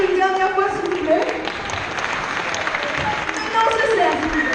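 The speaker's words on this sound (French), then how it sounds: "Vous pouvez tous applaudir une dernière fois" A graduation ceremony audience gives one last round of applause, steady dense clapping filling the hall near and loud throughout, with a few voices mixed in.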